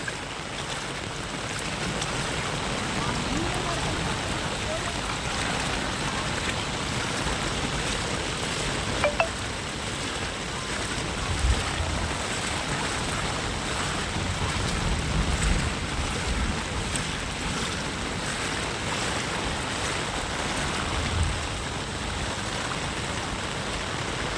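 A flooded village stream overflows after heavy rain, its water rushing across and beside a submerged road. The roar is steady, loud and broadband throughout, with no voices.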